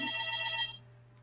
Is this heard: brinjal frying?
no